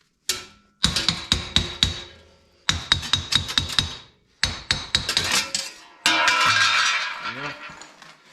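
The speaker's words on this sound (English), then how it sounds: "with a gentle touch of a hammer" Hammer taps on a Subaru front wheel bearing hub: four bursts of quick, ringing metallic strikes with short pauses between them, close and fairly loud, ending in a scraping, grinding rattle.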